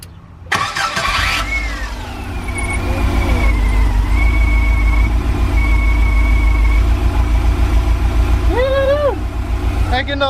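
A Subaru engine swapped into a VW Vanagon cranks briefly, catches and settles into a loud, steady, close idle that runs to the end, with a short voice near the finish.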